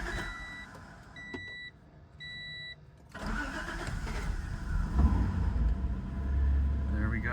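A 1995 Acura Legend LS coupe's engine cranks and fires up after a few warning chimes, then settles into a close, steady idle rumble as a voice talks briefly over it.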